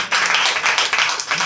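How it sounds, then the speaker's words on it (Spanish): A congregation in a church breaks into loud, sustained applause, a dense wash of clapping that swells and dips in waves for the whole moment. "Denle un aplauso fuerte"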